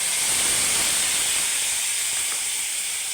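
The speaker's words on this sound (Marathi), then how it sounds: "त्याच्यामध्ये आपण टोमॅटो प्युरी टाकतो।" Tomato puree hits a hot tempering of mustard seeds, curry leaves and asafoetida, giving a loud, continuous hissing sizzle that stays steady throughout.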